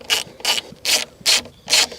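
A plastic cover on a MaxiCharger 22kW EV charger clicks and ratchets into place in five crisp, evenly spaced mechanical snaps, close and alone.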